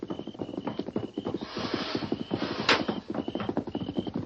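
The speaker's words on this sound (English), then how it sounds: "A horse." A radio-drama horse approaches in old-time broadcast style, rapid clip-clop hoofbeats drawing nearer with a neigh rising above them, all at modest volume with no talking.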